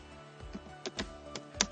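Scattered keystrokes on a computer keyboard, a handful of quiet close clicks with uneven spacing and pauses between taps.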